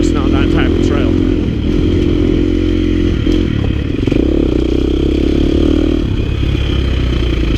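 A KTM 350 XC F dirt bike engine drones steadily and loudly while riding a mountain trail, with rattling clatter from the terrain and a voice talking over it throughout.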